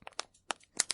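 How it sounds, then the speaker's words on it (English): Sharp, brittle crackles and crunches pop in irregular bursts, close and quiet, from a crumpled disposable plastic water bottle resembling a crackling fire. "used a disposable water bottle and crunched it to make this sound. So this is crackling fire."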